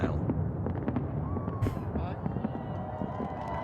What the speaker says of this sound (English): Fireworks in the sky over our nation's capital.